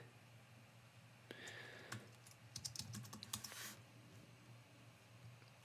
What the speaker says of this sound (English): I'm going to create a folder that you can't see right now, but I'm typing it.